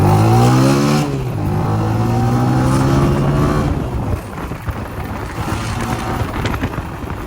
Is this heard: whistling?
no